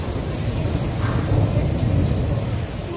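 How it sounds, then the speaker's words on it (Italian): Heavy rain pours during an outdoor folk parade while a long rolling thunder rumble swells in the middle and fades, loud and enveloping with no voices. "Sentite che tuono."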